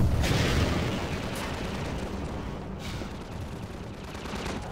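Gunfire shooting down rockets in the Half-Life 2 video game, a dense rumbling volley of shots and booms, loudest at the start and continuing as a steady roar.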